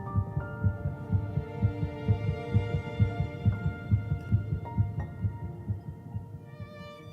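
An embryo's heartbeat thumps in a fast, even rhythm of soft low pulses over a steady hum, continuing throughout without any voices.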